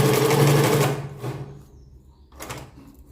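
A sewing machine runs a short burst of stitching along a jeans waistband, close and fairly loud, then stops and gives a second brief whir after a pause.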